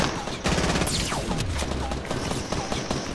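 Rapid gunfire from a Fortnite Battle Royale match crackles in dense bursts and single shots throughout, loud and continuous, with occasional game effects mixed in.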